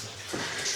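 Water runs and splashes steadily inside a collapsed underground mine, a close, continuous rushing trickle without voices.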